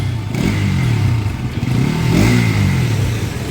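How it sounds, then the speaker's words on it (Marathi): A Bajaj BS6 motorcycle engine revs up and settles, a close, loud mechanical drone with a faint rattle as the pitch rises and falls. "गाडीच्या इंजिनमधून थोडा गरगर आवाज येतोय"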